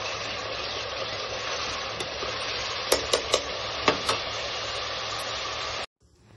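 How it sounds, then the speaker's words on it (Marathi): Masala with ginger-garlic paste sizzles in hot oil over a low flame for mutton biryani, a constant close frying hiss broken by a few sharp stirring clicks before it cuts off abruptly. "आपण जो मसाला तयार केला होता तो टाकून मी छान असं या मसाल्याला तेल सुटेपर्यंत आपण परतून घेऊया मंद आचेवर"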